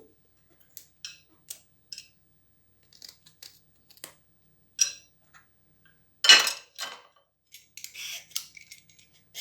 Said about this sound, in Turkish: Bakın şöyle saplarını kesiyorum.